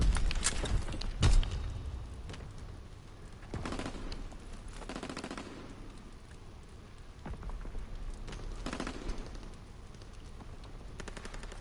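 Gunfire in the Call of Duty WWII video game during a bunker assault: repeated bursts of automatic weapon fire over a steady, crackling battle background, with louder volleys spaced several seconds apart.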